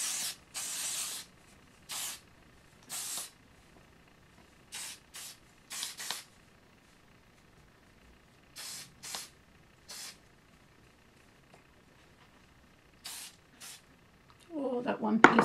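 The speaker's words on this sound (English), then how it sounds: "It's kind of a hairspray with like a wax in it, which is great for this" Unite Tricky Light Finishing Spray, a wax hairspray, gives about a dozen short, sharp aerosol hisses in uneven bursts, each under a second, close to the mic, with quiet gaps between them and a brief voice at the end.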